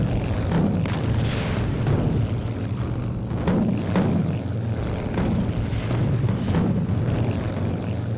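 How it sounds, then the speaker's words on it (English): Anti-aircraft flak bursts around a jet in Strike Fighters 2: Vietnam, sharp thuds popping irregularly every second or so over a constant engine drone. "We got some major flak coming at us."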